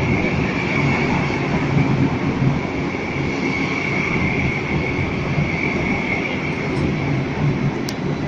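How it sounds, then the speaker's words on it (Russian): A high-speed train pulls into a busy station in Shanghai, a loud, steady rumble with a sustained hum and continuous rail noise throughout, close by and without talk. "Подъезжает наш поезд."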